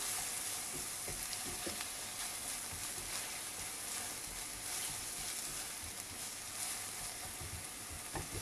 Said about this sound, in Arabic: نحطوها تتقلى